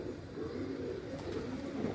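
Pigeons coo softly and steadily in a low, throaty murmur, faint and close, with no speech.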